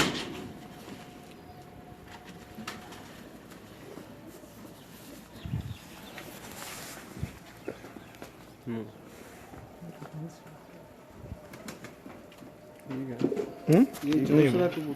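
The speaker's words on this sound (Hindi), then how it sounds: "जिन लोगों को सियालकोटी कबूतर पसंद हैं वो लोग देखें जी, ये उनके सियालकोटी कबूतर हैं।" Sialkoti pigeons cooing softly amid a busy background with people talking throughout, a few louder knocks and rustles near the end.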